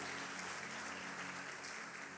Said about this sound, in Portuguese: diga eu recebo e aplauda Jesus bem forte